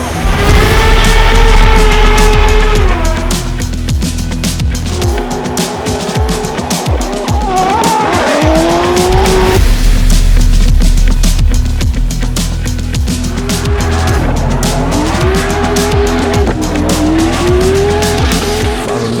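Drift cars at round 4 of the Drift Masters European Championship in Riga scream past at full throttle, engines revving and bouncing off the limiter while tires squeal in long, loud skids, close and continuous throughout.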